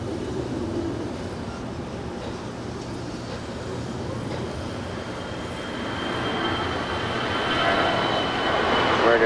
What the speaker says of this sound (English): that 787-9 Dreamliner landing here on 25 left here on the south side